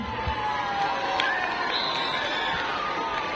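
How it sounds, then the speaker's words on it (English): At a Children's Day event, a crowd cheers and applauds as the under-14 boys' team walks in, making a steady, dense roar of clapping and shouting voices with a few high, shrill calls. "Give them a huge round of applause"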